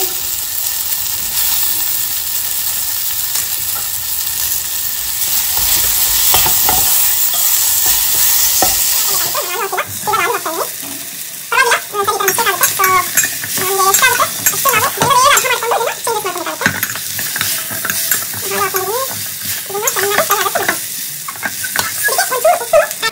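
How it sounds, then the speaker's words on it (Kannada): Potatoes for aloo methi sabji fry in a pan while a utensil stirs them, giving a steady loud sizzle for several seconds before frequent scraping stirring strokes take over, close and with no talk. "ಫ್ರೈ ಆಗ್ತಾ ಇದೆ."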